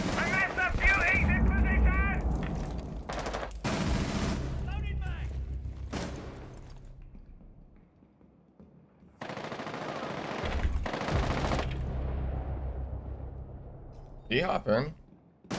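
Gunfire in Rainbow Six Siege, a shot fired up through a floor, with loud broadband bursts in a couple of separate volleys amid game noise, while players talk over it.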